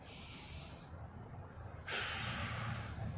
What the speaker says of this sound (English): Just need to breathe.